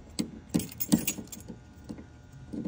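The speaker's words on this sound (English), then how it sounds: "A lot of these cars have tons of spare keys with them" A bunch of spare keys for a 1971 Ford Mustang convertible jangles close and loud in several quick shakes, with quieter rattles after, while someone hunts for the trunk key; no talking.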